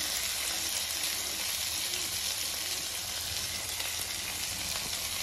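Grated ginger, green chilies and curry leaves frying in hot oil in a pan, a steady, dense sizzle with soft crackle that stays even and close throughout, no talking.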